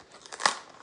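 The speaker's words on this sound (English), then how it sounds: "so we have our handy dandy scissors. I'm just going to go ahead and cut that" Scissors cutting open a cardboard brownie mix box, a brief crisp snip and crunch of cardboard, close and fairly quiet, with no speech.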